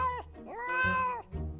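A cartoon cat, or a voice imitating one, gives a few drawn-out meows in quick succession, close and clear with rising and falling pitch.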